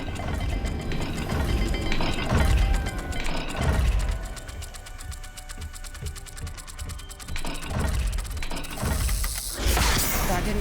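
Repeated ratcheting clicks and gear-like clinks of a turning dial puzzle mechanism in Hogwarts Legacy, layered over ambient game music and low rumbles, coming in bursts.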